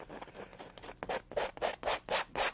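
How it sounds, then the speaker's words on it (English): Scraping excess paint off a painting with a tool, a run of rasping rubbing strokes that grow louder and more distinct, about eight close, steady passes with no talking. "Just really get in there and scrape it off."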